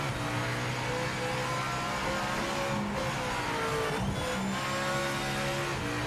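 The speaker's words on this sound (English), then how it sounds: "oh, so you don't like the sound of a four-rotor" Mazda 787B four-rotor race car in the Project Motor Racing game, its engine droning at a steady high pitch with shifting harmonics and brief tyre squeal, loud and continuous with no talk.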